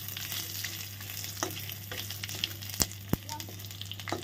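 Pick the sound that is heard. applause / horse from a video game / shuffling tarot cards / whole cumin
whole cumin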